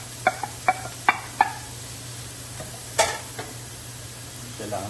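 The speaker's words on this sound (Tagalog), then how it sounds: "Para igigisa muna natin siya ng konti." Pig ears sautéing in a pan for chicken sisig, a steady low sizzle under a run of sharp utensil taps and scrapes against the metal, close and fairly loud.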